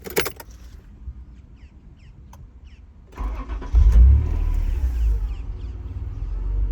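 A 1991 Honda NSX engine cranks and fires up after a few seconds of quiet clicks and rustling, then settles into a loud, deep idle with a rev swell, heard close up.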